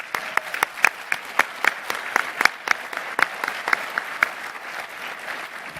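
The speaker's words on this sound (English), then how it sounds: "I do like to give them a round of applause" Audience applause at an awards ceremony following a waste management business meeting, a steady patter of many hands clapping with sharp individual claps standing out, moderately loud and unaccompanied by talk.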